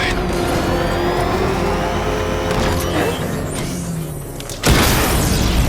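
A heavy explosion in Batman: Arkham Knight as a tank is taken out, with a loud rumbling, mechanical roar that settles and then a sharp, louder burst near the end.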